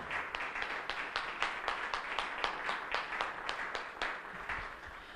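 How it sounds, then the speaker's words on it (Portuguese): A church congregation claps in sustained applause, the individual hand claps dense and fairly even, steady in loudness and heard at moderate distance without voices. "Vamos dar mais uma salva de palmas ao Senhor Jesus"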